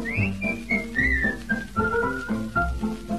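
A person whistles a cheerful waltz melody. Clear, close notes slide between pitches in a lilting three-beat rhythm over a soft accompaniment.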